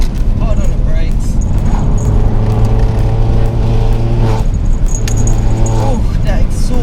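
Mini Cooper S R56 with a John Cooper Works exhaust, a loud, close engine note that rises and holds while driving, with a steady droning rumble and rattles, under a person talking.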